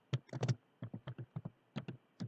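Computer keyboard keys tapped in short irregular clusters, close and fairly quiet, with brief pauses between groups of keystrokes.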